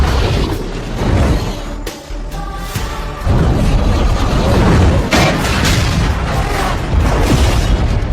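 A gas cylinder explodes and destroys a plane wreck in a film scene, a loud, heavy boom with rumbling blast and sustained roaring debris noise that swells and continues for several seconds.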